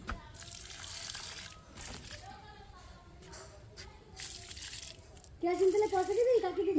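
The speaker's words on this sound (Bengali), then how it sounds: "এখন আমি গাছে জল দেবো" Water splashes and gushes steadily while plants are watered at home, with people talking nearby, including a voice, and a louder voice near the end.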